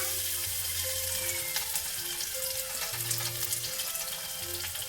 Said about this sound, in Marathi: त्याच्यानंतर आपण कढीपत्ता ॲड करायचा आहे